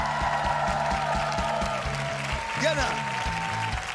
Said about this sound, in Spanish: Va fuerte el aplauso.